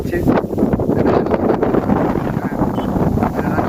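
Gusty wind buffets the microphone in a continuous low roar, rising and falling without pause.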